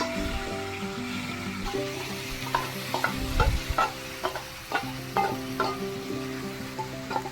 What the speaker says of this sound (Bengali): একটু আস্তে আস্তে জাল দিয়ে ভালো করে কষে নিচ্ছি।